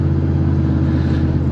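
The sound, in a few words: truck engine while driving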